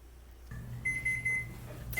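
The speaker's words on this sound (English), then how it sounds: "All right, there is the timer." A kitchen timer alarm goes off while a chocoflan bakes, sounding a steady, clear electronic beeping tone for under a second with brief pauses, fairly close and loud over a low background hum.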